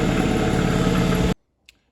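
A Kubota tractor backhoe engine runs at a steady, loud idle with a dense mechanical rumble, then cuts off abruptly and leaves near silence broken by one faint click.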